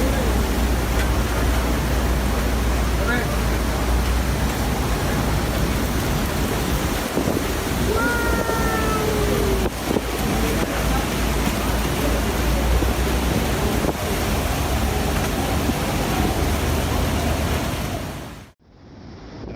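Large ocean waves crash on the shore in a continuous loud roar of surf, a broad wash of churning water that fills the whole stretch before cutting off abruptly at the end.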